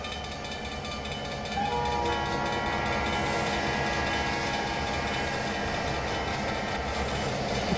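Train wagons roll along the rails in the Trainz video game, a steady rumbling drone with faint rhythmic bumps and a tonal whine that grows louder partway through, with no talk.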